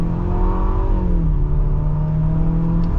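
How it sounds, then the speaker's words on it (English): A 2025 Infiniti QX60 Luxe AWD turbo SUV pulls away from a stop in eco mode, its engine note rising steadily from inside the cabin, a smooth continuous hum climbing in pitch over several seconds with no talking. "setting off now in the QX60"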